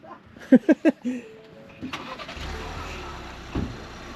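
A car engine cranks and catches at a mountain pass parking area, then settles into a quiet idle and pulls away, following a few sharp knocks or door thuds. The engine sound stays moderate and fairly close, and no one speaks.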